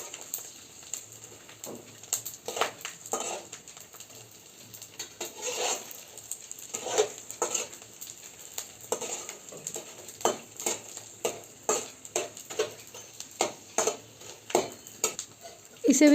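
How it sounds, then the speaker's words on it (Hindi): Edible gum (gond) fries in a pan with a soft crackling patter, broken by frequent sharp clinks and scrapes of a spoon stirring against the metal, fairly quiet and close. "गोंद को फ्राई होने में 1 से 2 मिनट लग जाता है।"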